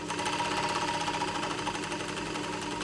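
A sewing machine stitches steadily along the edge of cotton makeup wipes, trimming the excess as it goes. It gives a continuous, dense mechanical whir close up, with no pauses and no talking.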